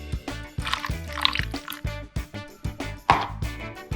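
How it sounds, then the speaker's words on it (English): Vinegar and citrus juice are poured into a vinaigrette, giving close, soft liquid drips and splashes in short irregular bursts in a quiet kitchen. "Then we're gonna add a little bit of our vinegar. A little bit of citrus juice."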